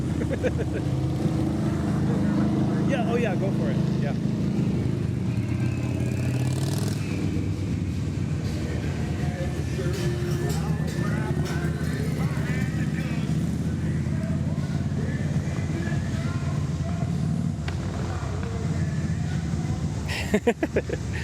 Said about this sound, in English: Hold on. Motorcycles.